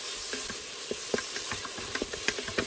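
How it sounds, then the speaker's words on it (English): Steady broadband hiss of water boiling in a rice cooker, with scattered bubbling pops and small clicks, close and continuous, no voices. "My water is boiling in my rice cooker"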